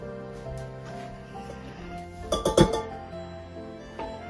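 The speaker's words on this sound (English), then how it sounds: "We can start stirring it in there." A spoon stirs flour into a mixture in a bowl, giving quiet scraping and a short cluster of clinks against the bowl midway, close and with no talk.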